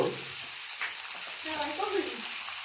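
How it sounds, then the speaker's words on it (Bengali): Chopped onions seasoned with salt and a little turmeric sizzle softly in a pan over a low gas flame, a steady faint hiss with occasional light stirring, no talk. "গ্যাসের আঁচ কমিয়ে আমি পেঁয়াজগুলোকে একটু ভেজে নিচ্ছি, যতক্ষণ না পেঁয়াজটা মজে যায়।"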